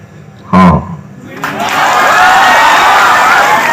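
A live audience bursts into loud applause and cheering, a sustained roar of clapping and shouting that builds after a brief shout and continues steadily to the end.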